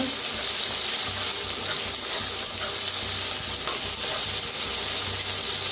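Onion, curry leaves, green chili and garlic roast in a hot pan, giving a loud, steady sizzle with a dense crackling hiss and faint low bubbling underneath, continuous throughout with no talking.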